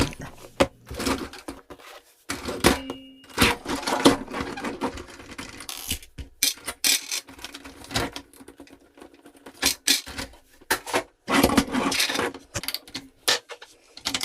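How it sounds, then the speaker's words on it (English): Tires, hex adapters and lug nuts coming off a Clodbuster RC truck, heard as close, busy ticking and clicking of small parts and tools in irregular bursts, with faint background noise throughout. "I'm just getting these tires and then the special Clodbuster hexes and lug nuts all off."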